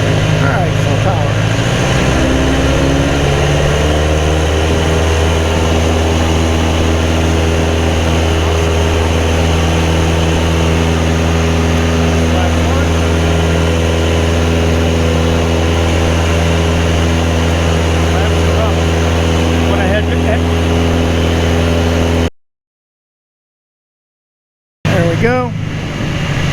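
Carbon Cub SS light airplane's propeller engine at full power, a loud, steady droning roar with strong low harmonics that holds throughout, then cuts briefly to silence before resuming.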